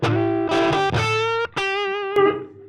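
A Les Paul electric guitar played through a Fender 68 Custom Vibro Champ amp rings out a few sustained, lightly overdriven notes and short slides, each bright and harmonically rich, close and clear with no voices.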